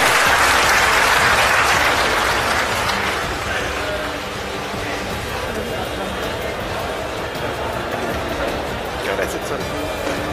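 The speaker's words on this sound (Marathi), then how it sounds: "एकदा जोरदार टाळ्या" Loud applause from a crowd at a public political rally, dense clapping that is strongest at the start and then gradually thins while continuing steadily, with some crowd noise and voices underneath.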